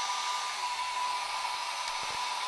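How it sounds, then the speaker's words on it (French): A hair dryer blowing steadily to warm a temperature sensor in an Arduino cooling experiment, a continuous airy whoosh with a faint motor whine, alone and fairly close, with a couple of small knocks near the end. "Un coup de sèche-cheveux."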